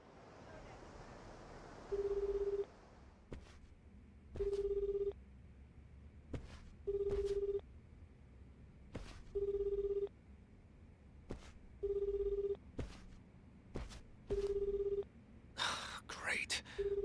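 Unanswered phone call in the video game Like a Dragon: Infinite Wealth, a steady ringback tone repeating in seven evenly spaced bursts over a low hum, with a brief rustle near the end.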